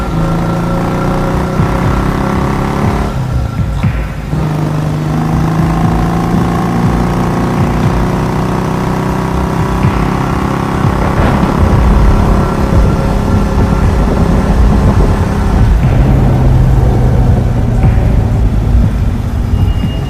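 Motorbike engines hum steadily while riding through an old haveli story game scene, a continuous mid-pitched drone with shifting tones and no voices.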